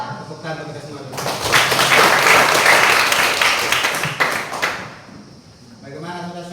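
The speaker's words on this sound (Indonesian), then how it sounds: "Tepuk tangan kita semua dulu" A class of students claps together at a teacher's prompt, a burst of loud applause lasting about three seconds, framed by someone speaking before and after.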